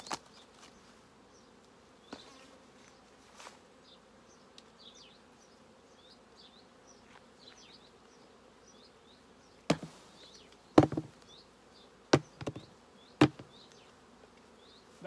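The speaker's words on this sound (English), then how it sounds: "A lot of bees in here, completely full." Honey bees buzz continuously inside a completely full hive in an apiary at a soft, steady level, broken by a few sharp knocks and clatters of wooden hive boxes near the end.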